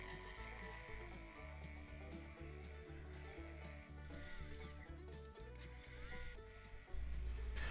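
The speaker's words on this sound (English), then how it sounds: "I'm using my traditional scraper to help remove some of the marks that may have come into play when I use the Easy Wood tools" Lathe spinning a pecan and epoxy bowl as a traditional scraper works it, a steady close motor whine with a rhythmic buzzing chatter, then a brief surge in loudness near the end.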